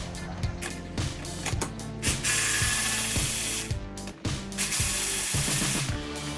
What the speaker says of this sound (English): Got a T45 and a 6-inch extension, Milwaukee M12 electric ratchet.